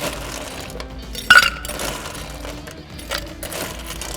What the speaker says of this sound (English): I'm going to add some ice into my shaker tin and ice into my glass